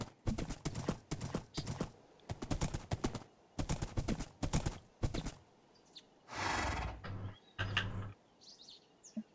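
A horse's hooves clip-clop while it is ridden in the Minecraft modpack RLCraft, in rhythmic bursts of clopping with short pauses and faint bird chirps in between.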